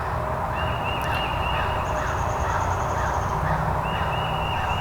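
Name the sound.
wild turkey gobbler gobbling in woods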